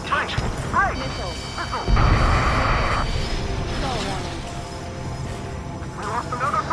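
A missile explosion in the jet combat game Ace Combat 7: a heavy crashing blast that rumbles for about a second amid roaring aircraft engine noise, with radio chatter voices around it.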